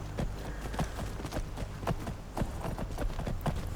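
Horse hooves clip-clop in Skyrim, a quick, uneven run of fairly close thuds and clacks repeating throughout the short stretch, with no speech over them.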